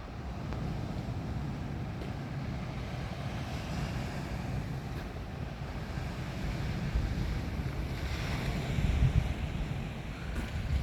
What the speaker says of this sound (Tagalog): Yan, yung dagat lumalapit na dito.